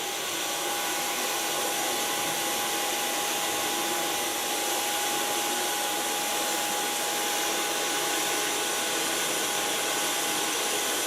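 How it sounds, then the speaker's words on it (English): A hair dryer blows steadily and loudly throughout while hair is blow-dried with a medium brush after conditioning in a salon, a continuous broadband whoosh with a faint tonal hum and no speech. "And then, of course, you can start blow drying."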